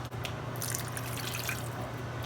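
Water is poured into a pan of spices cooking over medium heat for a meatball gravy, giving soft splashing and dripping sounds above a steady low hum, fairly quiet and without talk.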